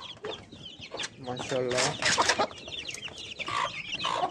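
A hen with her three young chicks clucks and cheeps close by in short bursts, while someone speaks over them.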